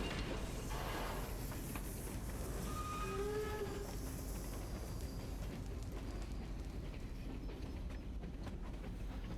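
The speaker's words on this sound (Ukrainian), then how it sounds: "наш поїзд зараз буде рухатися до станції" A train rolls steadily along the tracks in the survival crafting game Steel Ark, giving a continuous low rumble with faint clatter that holds at a constant level for the whole stretch, with no talking.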